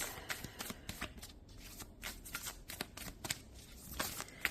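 Tarot cards are shuffled by hand in a run of quick, crisp riffling bursts and soft flicks, close and clear with no talking over them.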